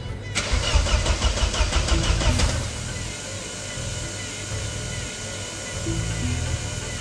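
Starter motor on a Vauxhall Astra GTE 16V cranking in a rapid rhythmic churn for about two seconds without firing, then a continuous mechanical whirring hum remains afterward, with a voice speaking over part of it.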